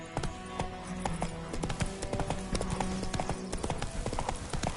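Hooves of Roach, the horse in The Witcher 3: Wild Hunt, clip-clop in a quick, steady running rhythm. The footfalls are close and clear over a low game ambience, with no voices.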